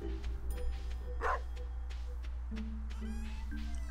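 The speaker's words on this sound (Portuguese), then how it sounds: "O que foi, rapaz? Tá latindo tanto aí" Dog in the Stardew Valley farming game, a few short game-style barks and yips over a low steady background hum, with faint game sound effects.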